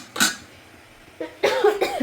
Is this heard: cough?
yes